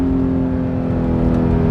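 Straight-piped Audi R8 V8 revving, a loud, close engine roar with a smooth, strongly tonal exhaust note holding steady throughout the short burst.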